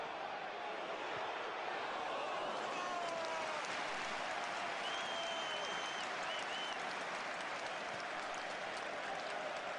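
Stadium crowd applauding at an Arsenal versus Liverpool football match from the 2005-06 season, a dense, steady roar of clapping that fills the whole stretch, heard from a distance under broadcast ambience.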